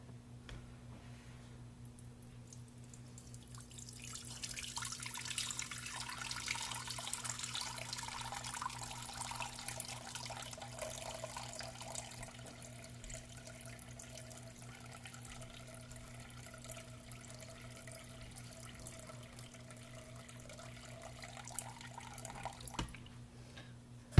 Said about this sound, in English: Which is going to be 700 grams of water.